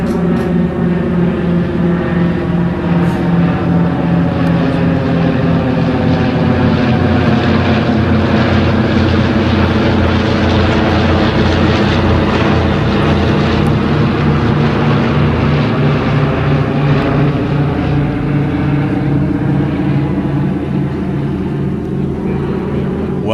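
A propeller aircraft at an air show drones loudly and continuously, its engine and airscrew giving a strong buzzing tone that slowly shifts in pitch as it passes close by.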